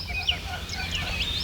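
Indian Runner ducks calling on a rural farmstead, a busy mix of chirpy, squeaky bird calls over a low rumbling background, fairly close and continuous with no talking.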